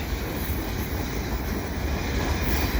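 A QNS&L rebuilt AC4400CW freight train with DPU locomotives rolls past at Valois in winter, a loud, steady rumble of wheels and cars that holds throughout without a break.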